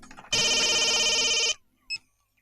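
A telephone rings close and loud in one sustained burst of about a second, then stops, leaving a brief faint click afterward and no voices.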